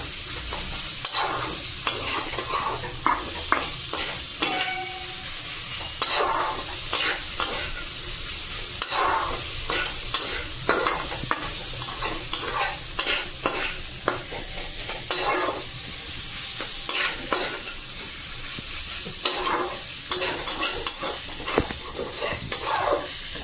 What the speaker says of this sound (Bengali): ভালো করে এবার নেড়ে চেড়ে নেব।